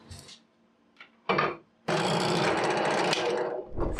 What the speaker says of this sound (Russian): Аккурат отдираю и сверлю уже по разметке.